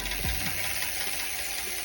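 A rear hub freewheel ratchet on a Race Face Aeffect R wheel fitted to a Sondors Rockstar e-bike, ticking in a quiet, close, rapid run of mechanical clicks that slows and fades over a couple of seconds.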